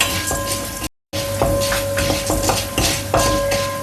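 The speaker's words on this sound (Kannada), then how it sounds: "ಮೊದಲಿಗೆ ತೊಗರಿಬೇಳೆ ಎಲ್ಲದನ್ನು ಸ್ವಲ್ಪ ಕೆಂಪಾಗಿ ಹುರ್ಕೋಬೇಕು." Toor dal dry-roasting in a pan over a low flame, a spatula scraping and tapping the metal in an uneven rhythm over a soft, constant sizzle, close by, with a brief dropout to silence near the start.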